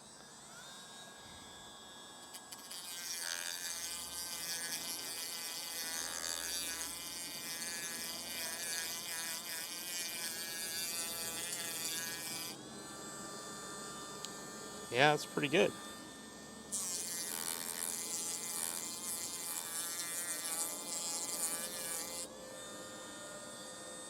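A Bauer 8V cordless rotary tool from Harbor Freight sanding, a high whining buzz with pitch that wavers as it works, broken by pauses. A short spoken remark comes in a gap between runs.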